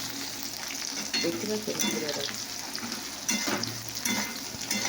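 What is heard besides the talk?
potatoes frying in a pan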